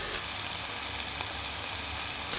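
Fish cake and imitation crab sticks simmer in a pan for stir-fried fish cake, giving a steady close sizzle and soft bubbling hiss that holds evenly throughout with no talking.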